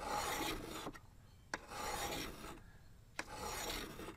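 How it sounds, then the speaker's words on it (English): A hand file rasps along the curved edge of a steel lawn mower blade being sharpened, in three long, steady strokes separated by short pauses and sharp clicks as the file resets, close and fairly quiet with no talking. "follow that curve with your file and try to keep it at the same angle through the whole blade."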